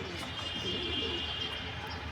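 A pair of racing pigeons, male and female, cooing close by in a short, soft burst of low throaty coos.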